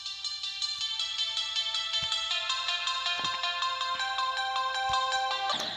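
A Samsung phone ringtone plays loud and clear, a bright repeating melodic pattern of chiming tones running continuously for several seconds with no talking over it.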